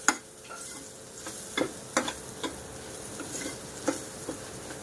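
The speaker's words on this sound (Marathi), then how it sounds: "आता हे सर्व मसाले की नाही छान असे परतवून घ्यायचे एक 2 ते 3 मिनटं" Spice masala with coriander powder and black masala sautéing in oil in a pan for bhogichi bhaji, a low continuous sizzle broken by occasional spoon scrapes and taps.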